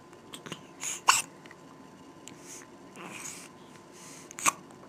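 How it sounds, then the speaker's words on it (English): A girl's small hiccups, a few sharp brief bursts spaced irregularly with quiet breathing between, close and fairly soft, no talk. "Uh-oh, you got the hiccups?"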